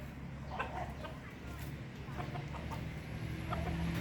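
Thai Chon game chickens cluck intermittently at a distance, soft scattered calls over a low steady outdoor background.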